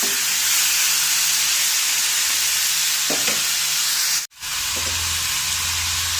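Chow chow (chayote) sautéing in oil for a Kerala-style thoran, a dense, steady close-up sizzle with a brief clatter midway and a sudden short break before the hiss resumes with a low hum.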